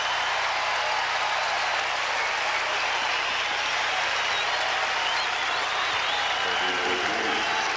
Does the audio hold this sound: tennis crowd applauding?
yes